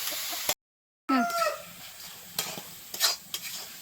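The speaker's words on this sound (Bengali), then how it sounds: "এবার নারকেলটা ভেজে নেব" Grated coconut being stirred as it fries in a wok on the stove, meant for wheat-flour kuli pitha: a soft sizzle under scattered scraping stirs and a few short clinks, close by, after a brief dropout.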